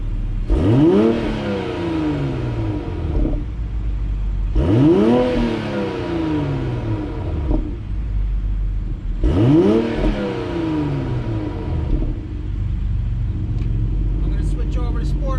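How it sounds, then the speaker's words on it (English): A 2020 Toyota Supra with an Eventuri carbon intake, in comfort mode, gives three revs to high engine speed, each rising sharply and falling back to a steady idle rumble, close and loud. "This is exhaust in regular comfort mode."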